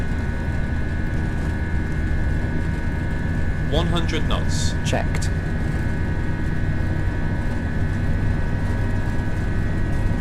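Airbus A320 jet engines roaring at steady takeoff thrust in the Prepar3D flight simulator, a loud continuous broadband rumble with whine, while voices make brief callouts over it.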